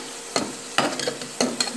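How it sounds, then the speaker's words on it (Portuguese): Chopped hamburger pieces with garlic paste in a pan, giving a steady soft sizzle broken by a few sharp scraping stirs about every half second to second, close and fairly quiet. "eu coloquei hambúrguer aqui, 3 hambúrguer para ir fritando para o almoço"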